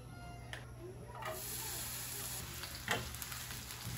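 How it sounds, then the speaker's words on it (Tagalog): An egg with onion fries in a pan with a soft, steady sizzle, heard up close at low volume, with a few faint clinks and scrapes. "Magpiprito lang naman ako ng itlog na may sibuyas."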